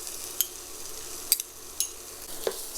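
Garlic, ginger and tomato paste sizzling in a pan during chole cooking: a soft steady fry with a few sharp clicks of a utensil scraping and tapping the pan.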